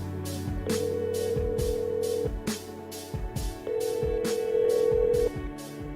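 A telephone rings on and on unanswered indoors, with repeated bursts of a bright electronic ring and short gaps between them, loud and close, with busy background clatter under it and no voices.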